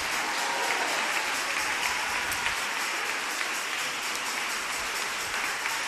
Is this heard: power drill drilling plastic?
no